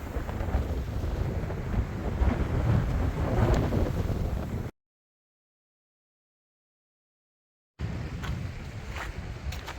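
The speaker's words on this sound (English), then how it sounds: "Definitely got windy." Strong wind buffets the microphone in a steady low roar, cutting out into silence midway before the gusting rumble returns.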